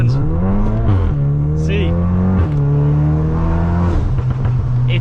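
Stage 3 VW MK8 Golf R, 535 hp, floored from a right-angle turn and accelerating hard, engine pitch climbing loudly through several gear shifts with brief dips, up close, a voice speaking briefly over it.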